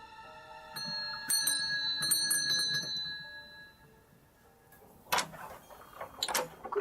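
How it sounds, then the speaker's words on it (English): Doorbell at a farmhouse ringing: a few bright, ringing chimes that fade, followed by quieter knocks and clatter near the door, with no talking. "Let's ring the doorbell."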